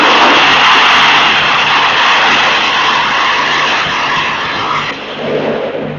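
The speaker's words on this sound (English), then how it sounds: "Here is the engine start." A loud, steady roar of an Energia rocket engine test firing, broadband and continuous for several seconds, easing slightly near the end as the emergency protection system cuts it off.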